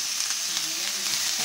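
Chicken hot dog sautéing in oil with onions, a steady bright sizzle and hiss, close and even for a short moment, with no talking.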